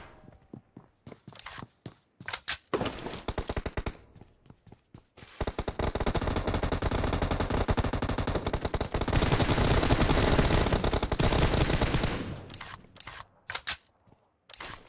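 Rapid machine gun bursts in a team deathmatch video game match, with scattered single shots and footsteps before and after a long, loud, sustained burst of automatic fire in the middle.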